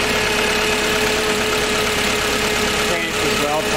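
A Nissan H20 engine in a TCM FG25N2S forklift runs at a steady idle, a continuous close mechanical drone with a faint knocking tone throughout.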